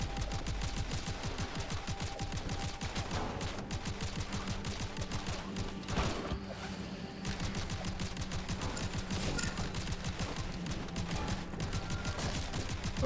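Gunfire from a video game spraying continuously, dense rapid-fire bursts of shots rattling steadily throughout at moderate level with little pause.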